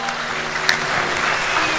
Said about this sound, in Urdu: تمام شعر زوردار تالیوں سے استقبال کیجئے بھائی